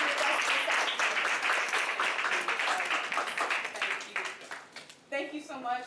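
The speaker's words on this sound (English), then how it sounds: "please give Terri a big round of applause" An audience at a women's discussion event on fibroids at Truman Medical Center claps loudly and steadily, the applause thinning out toward the end as a voice begins to speak.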